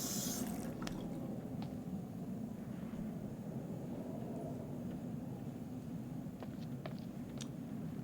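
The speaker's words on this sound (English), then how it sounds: "All right, Josh, let's see if you know how to hook up the hot water in your big fancy lodge." Hot water running in a lodge bathroom in the video game Until Dawn, a steady, faint rushing flow with a few light drips and clicks scattered through it, with no talk.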